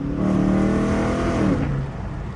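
Dodge Charger of the 2006–2010 generation with paddle shifters, revving hard after a downshift; the engine note climbs for about a second and a half, then drops abruptly. Heard alone and moderately loud.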